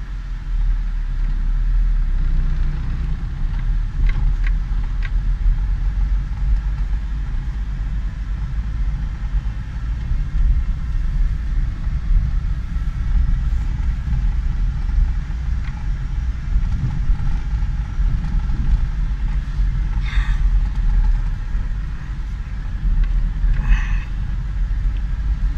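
A car engine idles steadily in roughly 30-degree heat ten minutes after starting, with a P0125 insufficient-coolant-temperature fault. It gives a continuous, even rumble and hum close by, with faint ticks on top and no talking.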